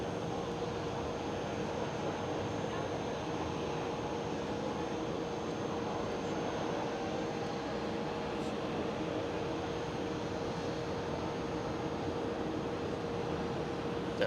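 An Air Baltic Airbus A220 at Schiphol airport gives a steady, distant jet engine drone, a continuous low rumble with a faint hum that holds evenly throughout.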